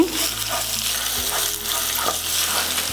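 Ginger and garlic frying in oil for a noodle sauce: a constant close sizzle with faint stirring scrapes, loud and even throughout the short stretch, no one speaking.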